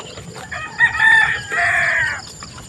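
A single rooster crows loudly nearby at a chicken farm on a rainy morning, a drawn-out two-part cock-a-doodle-doo with faint background noise.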